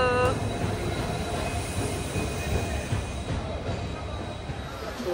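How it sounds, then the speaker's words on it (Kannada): A train pulling into Mangalore Junction, a steady broad rumble of railway carriages with faint wheel squeal, close and continuous throughout with no talk. "ಸೊ ಟ್ರೈನ್ ಫೈನಲಿ ಬಂತು."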